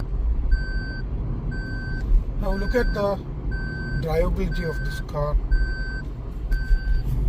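A 2023 Maruti Suzuki Baleno Alpha AGS sounds its seat belt warning chime, a steady series of evenly spaced beeps repeating over engine hum while someone talks.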